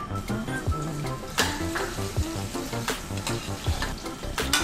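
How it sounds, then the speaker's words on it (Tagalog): Garlic sautéing in oil in a pan, a dense continuous sizzle and crackle with occasional scraping stirs and clicks, close and steady. "Okay, mag-gisa na tayo. Siyempre, oil muna. Start muna sa garlic as usual."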